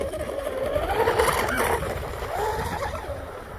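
A UL-19 RC hydroplane boat powered by a Castle Creations Hydra controller and TP 4060-CM motor, running fast through rough water with a high electric whine and splashing spray, while people talk over it.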